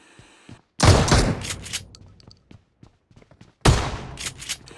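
Shotgun blasts in a battle royale video game, two loud close booms about three seconds apart, each followed by a decaying rumble and scattered small clicks and thumps.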